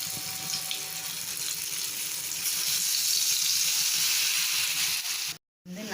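Food bubbling and sizzling steadily in hot oil in a home kitchen pan, a dense continuous crackle close by, briefly cut off near the end.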